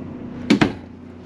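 A closet door in a 2021 Sunseeker RV bangs shut in two quick, close knocks, loud and sharp against a quiet room.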